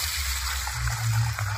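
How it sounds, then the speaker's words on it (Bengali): Dal lentils being rinsed in clean water in a cooking pot, with a continuous soft sloshing and splashing of water close by. "একবার পরিষ্কার জলে ডাল ধুয়ে নিয়েছি"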